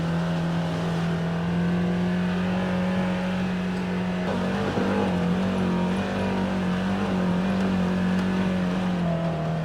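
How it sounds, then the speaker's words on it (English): An off-road buggy engine drones steadily while driving in 4-wheel drive along a muddy trail at the Hatfield McCoy Trails in West Virginia, a constant close hum with slight swells in revs. "This will be the first time I put the buggy in 4-wheel today, going back this way."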